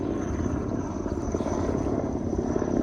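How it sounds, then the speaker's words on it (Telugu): A steady droning thrum of a helicopter overhead above village farm fields, with a continuous rotor pulse and faint whine, fairly loud throughout. "పైన చూడండి హెలికాప్టర్ కూడా వస్తుంది పైన."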